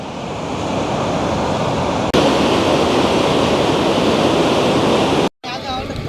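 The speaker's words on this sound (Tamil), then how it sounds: "தண்ணி பாயிறத பார்த்தா பயமாக கிடக்குது அந்தளவுக்கு பாயுது தண்ணி" Floodwater rushing hard through a village garden after heavy rain, a loud, close, continuous roar with a brief break near the end.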